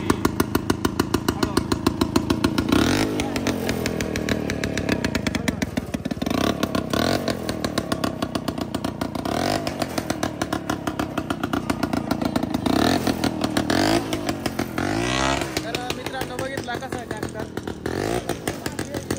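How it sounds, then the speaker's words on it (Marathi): A homemade jugaad tractor engine runs close by, loud and steady, with a fast, rattling throb and brief revs rising over the idle. "ट्रॅक्टर चालू झालाय पहा आता"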